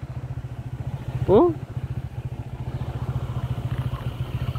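A motorcycle rides along an open road in Libmanan, Bicol, its engine pulsing steadily and close throughout, with a brief voice exclaiming over it.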